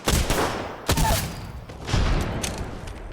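Gunfire in Apex Legends batters the listener up close and loud, with sustained bursts of rapid shots and several sharp heavy reports spread across a few seconds, without talk.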